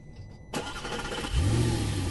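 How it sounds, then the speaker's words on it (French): A small five-seat car's engine cranks and catches after a click, then settles into a steady low idle with a slight rev, close by in a quiet street. "allume le moteur de sa petite voiture 5 places"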